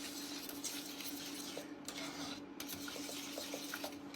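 Spoon stirring softened gelatin sheets into a mixture in a bowl for a salmon entremet, giving faint, close scraping and light clinking taps with a wet swishing texture, no talking.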